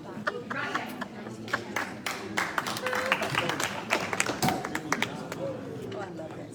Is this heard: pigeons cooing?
no